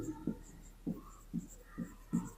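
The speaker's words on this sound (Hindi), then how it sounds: "हम लिखेंगे" Writing out a polynomial comparison during a math lesson on polynomials: five short, scratchy strokes at a steady, unhurried rhythm, close up, with no talking.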